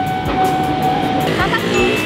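A train passes nearby, with a steady rumble of wheels and rail clatter plus a few squeals and tonal whines, loud and continuous while people chat in the background.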